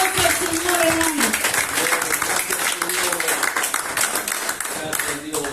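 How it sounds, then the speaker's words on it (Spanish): Congregation applause during a home church worship service, vigorous clapping mixed with voices calling out and a speaking voice over the top. "Den un aplauso al Señor, hermanos"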